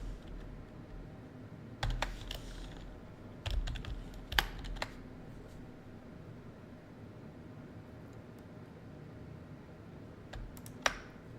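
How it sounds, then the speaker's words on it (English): Quiet computer keyboard typing comes in short scattered bursts of clicks and keystrokes during web development coding, separated by pauses, with a low steady hum beneath. "we can type it here"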